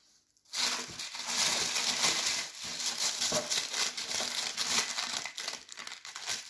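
Plastic foil wrapping is peeled and crinkled off a Legend of Zelda collector's edition box, close and loud, in continuous rustling crackles after a brief quiet start.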